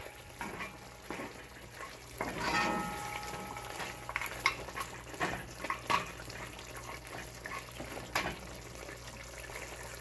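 Curry goat meat being stirred in a pot, with a spoon scraping and clinking against the sides over soft sizzling and bubbling of the meat's own juices, a few sharper knocks standing out.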